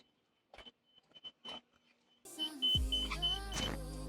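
A Mitsubishi's power convertible top is lowered after a timing belt job: a few quiet clicks and handling noises, then an electric motor whirs steadily with a couple of chiming beeps, close and fairly loud, with no talking.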